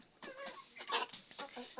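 Parent hens clucking close by in a poultry shed, a run of short throaty calls with a louder burst in the middle, no talking.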